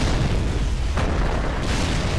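Grenade blasts in the multiplayer war game Empires, a dense, continuous rumbling boom with a sharper burst near the middle, loud and close with no talk over it.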